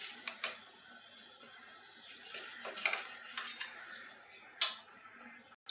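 A knife chops mango pieces on a board for a Kerala-style mango dish, producing a handful of irregular, fairly soft taps with a sharper knock near the end, quiet and close with no talking.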